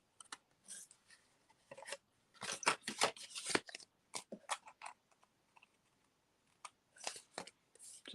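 Scissors snip extra bits off craft paper in a series of quick, close, crisp cuts, some in short bursts, with brief pauses between them.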